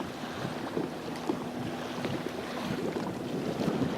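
A speedboat's wake washes in steady sloshing waves on a bright outdoor lake near a mountain, with constant wind buffeting the microphone and a low, distant engine hum.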